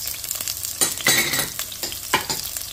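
Carrots going into a pan with sautéing onion and garlic for sotanghon soup, giving a brief close sizzle with a few sharp bursts of crackling as the ingredients are tossed, no talking.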